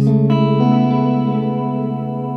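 A sustained guitar chord washes through a TC Electronic Flashback delay, with echoes and shimmering repeats layered over one another. The sound is thick and wide, close and loud, and slowly decays with no voices.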